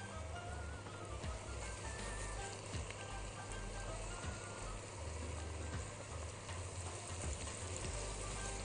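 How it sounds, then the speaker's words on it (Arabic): Garlic and onion sauté in a hot pan with a faint, steady sizzle and crackle, low in level and continuous throughout, with no talking. "هاخد التوم اضيفه يتشوح برضو"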